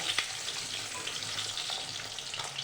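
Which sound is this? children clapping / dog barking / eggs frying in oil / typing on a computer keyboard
eggs frying in oil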